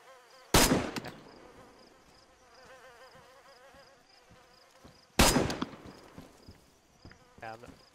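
Two sharp gunshots from another player in the survival video game DayZ, loud and close, spaced several seconds apart, with quiet ambient noise and a faint voice between them.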